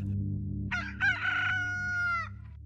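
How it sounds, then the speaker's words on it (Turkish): A rooster crows once, loud and close, a long drawn-out call over a steady low hum in the background. "Horoz ötüşleri"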